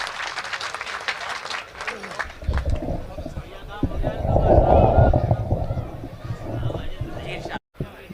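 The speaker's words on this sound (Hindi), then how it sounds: "तालियों से इस्तकबाल करें।" Applause from a mushaira audience at an Urs gathering in Lalitpur welcomes a ghazal poet, a broad swelling clatter of many hands that peaks midway and then tapers off, with voices mixed in.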